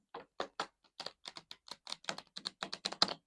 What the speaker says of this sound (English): We're going to take piles 3 and 4 and riffle them together.